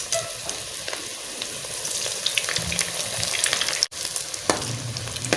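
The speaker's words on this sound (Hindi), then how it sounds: "घी हमारा गर्म है, बिल्कुल रेडी। अभी हम डालते हैं" Chicken vegetable rolls frying in hot ghee give a steady, loud sizzle with crackling pops and a brief scrape or clatter near the end, with no talking.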